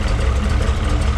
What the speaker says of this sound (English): Engine purrs as it should.